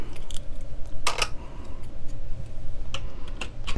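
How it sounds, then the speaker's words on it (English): Scissors snipping waste yarn on an LK 150 knitting machine: a couple of quick, close cuts stand out against quiet clicks and ticks. "And then I'll just cut that waist yarn,"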